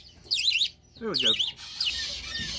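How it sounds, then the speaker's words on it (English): Baby white-crested Polish bantam chicks chirp in a brooder, high rapid peeping calls in two or three short bursts close by, with quieter background rustle between them. "here are the baby white-crested Polish bantams that we've hatched"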